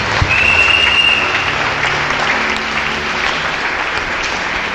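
A congregation in a church service claps steadily, a dense wash of applause that stays loud throughout, with a faint crowd murmur underneath.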